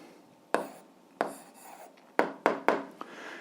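Pen strokes scratch and tap on paper while an algebra answer is written out, a handful of sharp, close scribbles separated by short pauses.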